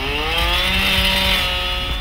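A rescue team's power drill bores through a collapsed floor during a cold-conditions rescue exercise, a loud, steady motor whine that holds without a break for the whole moment.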